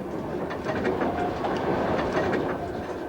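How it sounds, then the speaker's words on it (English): A train runs on the rails with a constant rumbling roar and faint rhythmic clickety-clack of the wheels, steady and fairly close, as if heard from inside a carriage, with no voices. "And the train is shaking all the time."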